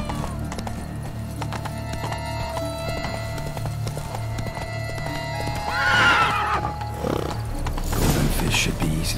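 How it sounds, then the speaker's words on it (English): Horse hooves clop steadily through a game soundscape in The Witcher 3: Blood and Wine, with a loud neigh rising near the six-second mark and more whinnying later, over a dense backdrop of music and ambience. "Gardens are huge. Better off on horseback. Let's go!"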